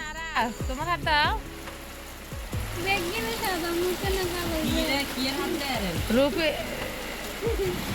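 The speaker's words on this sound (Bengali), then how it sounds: "আপনারাও আমার সাথে বৃষ্টিটা উপভোগ করুন" Steady monsoon rain hisses through the whole stretch, with voices and children's calls rising and falling on top of it.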